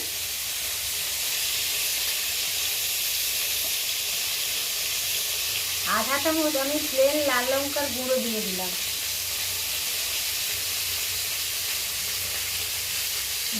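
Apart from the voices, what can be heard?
frying second batch of pointed gourd (potol)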